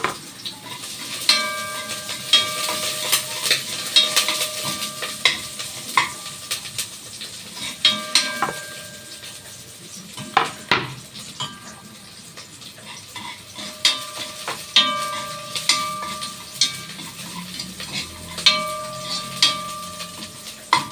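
Onion and garlic sauté together in a pan for a home-cooked adobo sitaw with ground meat, a steady close sizzle broken by frequent scraping and stirring clatter of a utensil against the pan, with no talking.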